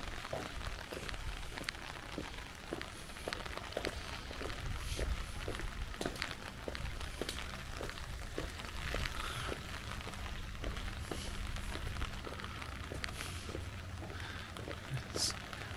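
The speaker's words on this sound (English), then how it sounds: "Rain's getting better." Rain falling in the town of Durbuy, Belgium, a soft steady patter with scattered nearby drips and ticks on surfaces, fairly quiet and continuous throughout.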